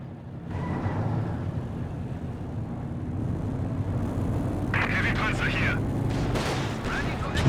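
A Walking Stuka rocket artillery barrage in Company of Heroes 2 pounds away as a steady, heavy rumble of explosions and whooshing rockets, with voices faintly mixed in.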